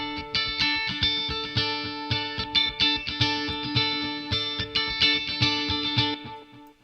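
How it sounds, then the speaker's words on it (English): Guitar-like synth track from a remake of a song, with a light echo trailing behind the notes; bright plucked chords repeat in a steady rhythm, loud and close, then fade out with a brief echoing tail. "There's also this little delay and little echo, not delay, little echo that you can hear like at the back end of it."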